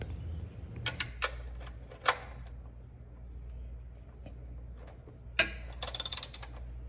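A ratchet working the oil pan drain nut on a 2021 Lexus RX 350L during an oil change, faint scattered metallic clicks and clinks, ending in a quick run of ratchet clicks, no talking.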